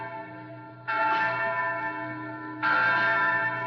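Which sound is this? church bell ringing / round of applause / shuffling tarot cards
church bell ringing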